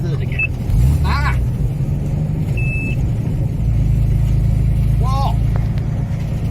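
Engine of an Austin A125 Sheerline car driving at low speed in third gear, a steady low rumble throughout, with occasional short tonal squeaks and people talking over it.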